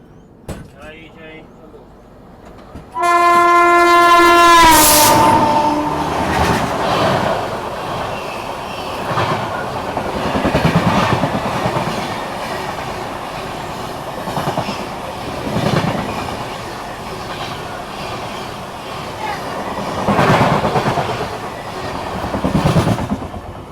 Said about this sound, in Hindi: ये आ गए संबलपुर जम्मू तवी एक्सप्रेस मैप 7 के साथ।